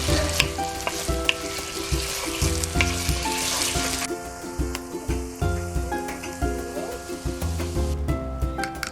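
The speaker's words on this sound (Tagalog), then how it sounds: "First, we heat our oil to saute our smoked sausage. Let's add potatoes." Smoked sausage and potatoes sauté in hot oil with a steady, loud sizzle and frying crackle that continues throughout, with occasional stirring scrapes and clinks mixed in.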